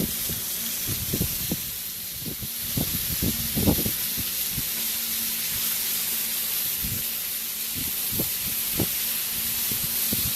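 Thin-sliced beef for a Philly cheesesteak sizzling steadily on a hot cooking surface, a constant bright hiss punctuated by soft thumps and pops, close by with no talking.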